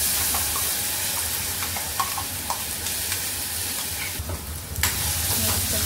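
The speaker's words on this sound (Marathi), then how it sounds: "फ्राय करून घेऊया मसाला।" Ground masala with curry leaves and fried onion stir-fried in a kadhai, giving a steady close sizzle with scraping stir strokes and a brief louder burst near the end, no voices.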